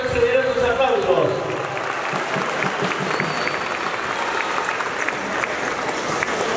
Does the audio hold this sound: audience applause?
yes